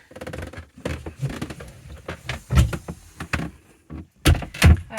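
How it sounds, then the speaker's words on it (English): An interior door on a boat is swung and pushed shut, giving a series of wooden knocks and rattles followed by two sharp, loud closing thuds near the end, close and without talk. "if you come back in here and close the door"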